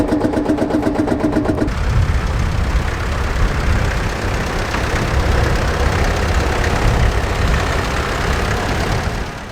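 International 414 tractor giving trailer rides at a working day, its engine idling and chugging steadily at close range, loud and continuous, with no voices.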